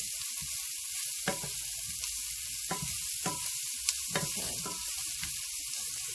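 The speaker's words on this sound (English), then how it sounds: "I'm going to actually start getting my pork chops in here" Thin pork chops sizzle and fry steadily in a pan, a constant hiss with occasional crackles and brief sharper pops, alone without any talk.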